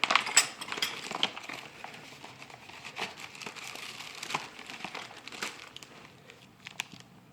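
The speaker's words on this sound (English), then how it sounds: "Open up this bag here." Plastic bag being opened and crinkled during an unboxing of a Fortune Auto 500 coilover kit for a BRZ, with close, irregular crackling and rustling bursts throughout, no talking.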